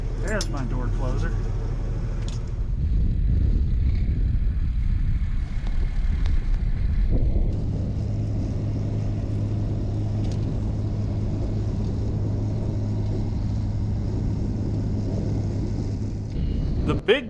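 A heavy Massey tractor engine drones steadily with a deep rumble and constant hum, running an 8-foot snow blower off its roughly 120-horsepower PTO continuously with slight shifts in load.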